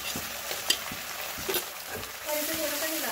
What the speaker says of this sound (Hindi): अब इसमें हम अदरक और हरी मिर्च डालेंगे